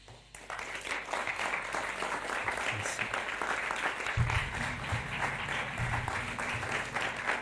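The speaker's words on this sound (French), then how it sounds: "qui mérite non pas un tonnerre mais une vague d'applaudissements" A live literary event audience applauds for an author reading, a steady broad wash of clapping that swells in after a brief quiet start and holds throughout.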